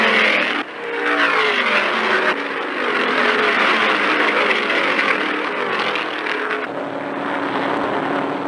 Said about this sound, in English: There goes an engine.